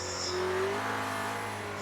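A race car engine in the video game Project Cars 2 holds a loud, steady, high-pitched drone, revving briefly and evenly with no voices over it.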